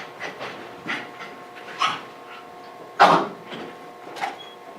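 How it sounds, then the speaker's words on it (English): Several dogs panting in bursts close by indoors near an open door, with scattered louder breathy pulses and light movement noise, no talk. "let's hope I don't lose my dogs"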